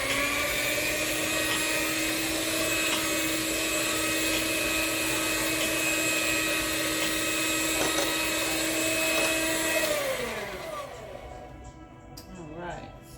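An electric mixer whirs through buttermilk chess pie filling with lemon added, a steady close whine that runs evenly for about ten seconds before spinning down and stopping.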